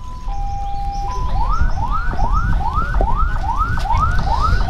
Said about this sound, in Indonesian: Sirine ini berdering ganti ya, jadi ini bunyi seperti ini baru merujuk pasien tidak gawat darurat.